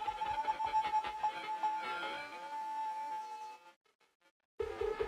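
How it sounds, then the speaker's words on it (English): A Broken Tones synth arpeggio, dry with no effects, runs a quick repeating pattern of bright notes that gradually thins out, drops to near silence for a moment, then a new tone enters at the close; no voices. "Next up, we got this Broken Tones arpeggio from Cadet's Bank."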